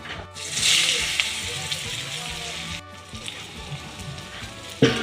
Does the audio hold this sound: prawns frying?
yes